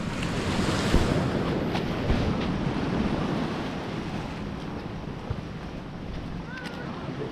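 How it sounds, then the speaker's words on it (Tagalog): Ocean surf roars continuously with wind buffeting the microphone, a broad rushing wash of waves breaking nearby. "Ang laki ng alon guys oh."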